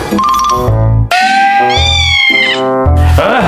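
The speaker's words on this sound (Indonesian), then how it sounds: "Di situ juga ada kucing, Pak." A cat yowls repeatedly in long, loud, wavering meows, close up, with brief breaks between the cries.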